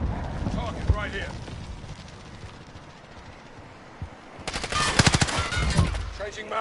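Rapid bursts of gunfire from a military shooter video game crackle loudly over a few seconds after a quieter stretch, with voices in the background.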